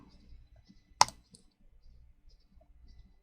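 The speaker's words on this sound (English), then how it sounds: "with this mic change, you could hear all my keyboard and mouse clicks" A single loud, sharp click stands out against quiet background, with a few faint soft taps of keys scattered around it.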